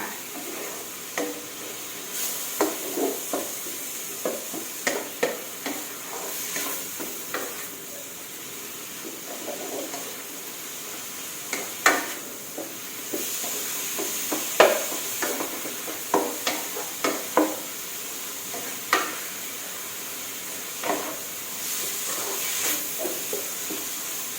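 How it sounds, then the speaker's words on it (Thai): Minced pork stir-fried in a wok until cooked, a constant sizzling hiss broken by frequent sharp scrapes and clanks of the spatula, close and steady, with no voices. "รวนหมูสับให้สุกค่ะ"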